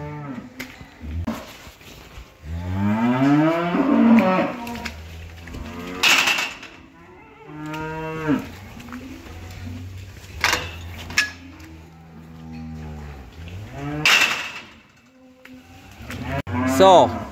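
Cattle in farm pens moo repeatedly, several long, loud, drawn-out calls spaced through the stretch, some near and some farther off, with occasional clatter between them.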